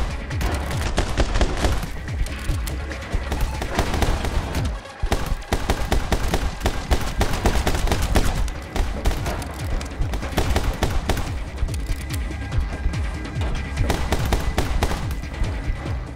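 Rapid gunfire from the video game My Friend Pedro, dense bursts of shots that go on almost without pause, loud and close, with a short lull near the five-second mark.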